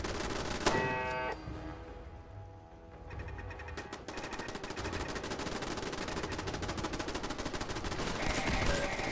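Rapid turret gunfire from Fallout 4, sustained automatic bursts with sharp repeated cracks over a dense game soundscape, loud throughout and building toward the end.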